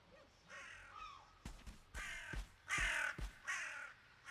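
Crows cawing in the video game Valheim, a flurry of harsh calls that swell from faint to loud, with several overlapping caws close by in the second half and no talking.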